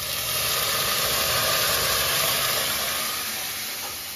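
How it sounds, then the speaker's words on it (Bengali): A pot of dal (lentils) boils on the stove, giving a dense, steady hiss and bubbling that runs evenly throughout and fades slightly at the end. "ডাল ফুটে উঠেছে"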